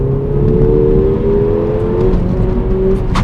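The four-cylinder engine of a Mercedes A45 AMG hot hatch revs hard and close, a loud, steady, rising drone with a slight waver as the pitch climbs.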